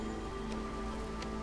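Hailstorm rain in the colony-building video game Against the Storm, a steady, even wash of rain and drops pattering on surfaces, with a faint low hum underneath throughout.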